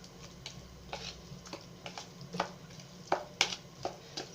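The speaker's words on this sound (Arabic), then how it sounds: "وغنخلط فيها هذوك جوج بيضات بهذه الطريقه هذه" A spoon beats two eggs in a bowl with quick, irregular clinks and light scraping, close and moderately loud, growing a little sharper toward the end.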